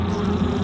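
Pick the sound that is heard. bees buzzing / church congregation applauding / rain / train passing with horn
bees buzzing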